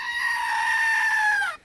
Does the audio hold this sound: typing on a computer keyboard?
no